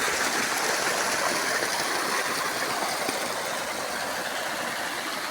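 Steady broadband rush of sprinkler irrigation water spraying over farmland, continuous and even throughout, with a faint low mechanical hum underneath; no voices.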